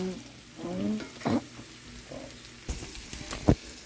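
Brussels sprouts, garlic and onions sizzle in a cast iron pan, a steady close frying hiss broken by a few sharp knocks and scrapes of a spatula.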